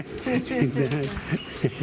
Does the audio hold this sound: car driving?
no